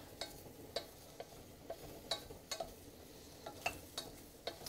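Soft, steady sizzle of mushrooms frying in a pan, broken by scattered sharp clicks and scrapes of stirring, fairly quiet and close with no talking.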